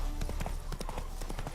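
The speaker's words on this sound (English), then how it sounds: "Spooking my horse." Horse hooves clip-clop in The Witcher 3's Hearts of Stone expansion, a quick run of sharp, close hoof strikes over game ambience as the horse is spooked.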